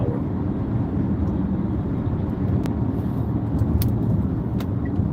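A BAIC X55 car cruises at 110 km/h and about 2000 RPM, heard from inside the cabin as a steady, constant low rumble of road and engine noise with a few faint ticks and clicks.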